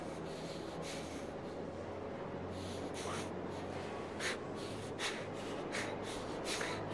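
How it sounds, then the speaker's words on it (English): Ethan's breathing in Heavy Rain comes as faint, repeated breaths and sniff-like snorts at irregular intervals over a quiet low hum, with no speech. "we're still listening to Ethan breathing"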